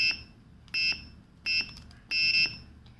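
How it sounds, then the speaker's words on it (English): An Arduino piezo buzzer wired to a push button gives four shrill, steady electronic beeps, each lasting while the button is held, separated by short gaps, close and alone with faint background hiss. "whenever I keep this button pressed, the buzzer produces a sound"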